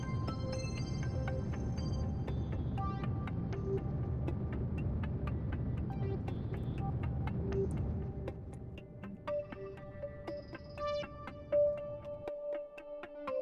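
A rocket engine in Kerbal Space Program burns at about half throttle, a steady broadband rumble and roar that holds for roughly eight seconds before easing into a quieter, tonal hum with scattered game beeps.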